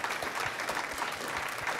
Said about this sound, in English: So let's give a round of applause to Jake, who's really made this whole enterp